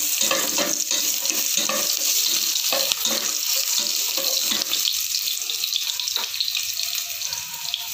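Chopped ginger sizzling in hot oil in a pan while being stirred, a steady loud fry with scraping clicks of the utensil throughout, for a chicken tinola.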